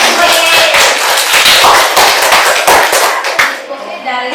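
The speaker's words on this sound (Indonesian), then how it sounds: "Oke, tepuk tangan dong." Dense, steady clapping from a crowd, a burst of applause that holds for a few seconds and then trails off.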